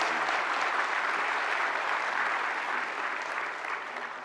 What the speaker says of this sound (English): kindly give him a huge welcoming round of applause